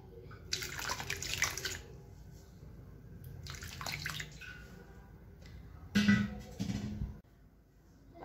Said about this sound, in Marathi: आणखीन थोडंसं पाणी घालणार आहे मी याच्यात